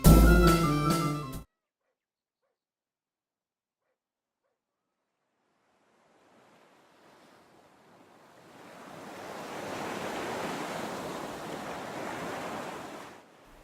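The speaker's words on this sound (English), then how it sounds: "the music abruptly turns off, leaving me with the soothing sounds of the ocean" Ocean surf in a video game rolls in gradually after music cuts off abruptly and a stretch of silence, building into a steady, fairly loud wash of waves with no voices.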